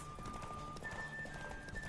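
Horse hooves clip-clop at a gallop in The Witcher 3 during a race, a steady rapid rhythm under game music with a sustained tone above.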